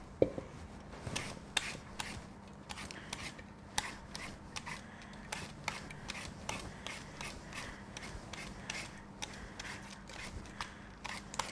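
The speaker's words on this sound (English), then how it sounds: "So you can either do this with a little knife or with a peeler, and get all the peel off." Apples being peeled with a small knife or peeler: a steady stream of soft scraping and rasping strokes, close but quiet, continuing without a break and with no speech.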